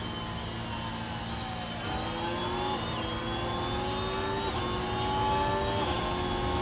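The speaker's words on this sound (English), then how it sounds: "We can hear the engine noise of Bearman's car." Race car engine in the F1 Manager 24 game at the Las Vegas circuit, a steady high whine with rising and falling gear-shift pitch sweeps, continuous and fairly loud with no talk.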